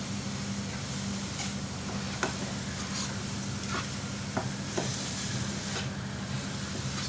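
Beetroot sautéing in ghee in a pan for halva, a steady soft sizzle and hiss with occasional stirring scrapes and taps, close and continuous with no voices.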